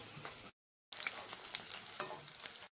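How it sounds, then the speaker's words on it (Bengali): Onion and potatoes frying in oil in a pan, with a close, busy sizzle and scraping stirs broken by a short silent gap partway through. "পেঁয়াজ লাল করে ভেজে নেব"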